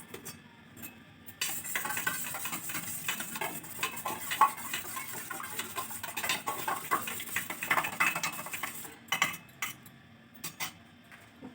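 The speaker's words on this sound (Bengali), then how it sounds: "লবণ দিয়ে দুটো লঙ্কা দিয়ে একটু মিশিয়ে নিলাম ডিমটা" An egg being mixed by hand with salt and two green chillies in a home kitchen, a steady stirring scrape with light clinks of utensil on bowl, close and continuous for most of the stretch, with no voice.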